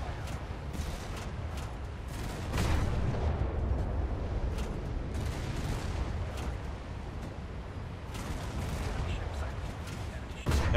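Naval flamethrowing rounds in War Thunder fire in heavy, repeated booming bursts over a constant rumbling battle din, loud and close, with sharp blasts recurring through the whole stretch.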